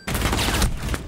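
Rapid, loud gunfire in the Rainbow Six Siege video game, a dense burst of close shots lasting about a second before cutting off abruptly.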